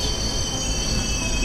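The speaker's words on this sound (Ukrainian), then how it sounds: "Приїхав поїзд," A train pulling into a station with sustained high-pitched wheel squeal over a rumbling low roar, loud and close, no talk.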